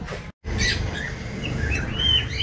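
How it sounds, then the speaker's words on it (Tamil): Cockatiels kept in a large terrace shed chirp steadily in high, thin calls, with overlapping tweets and a low background rumble throughout. "ஸோ இந்த பெரிய ஷெட்டில் நம்மள்கிட்ட காக்டெயில்ஸ் இருக்குது"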